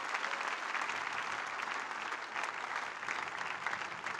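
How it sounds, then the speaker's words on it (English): A church congregation claps their hands together in steady, dense applause, a continuous loud wash of many hands with no pause, heard without clear speech. "Shall we put our hands together and clap for the ever Lord?"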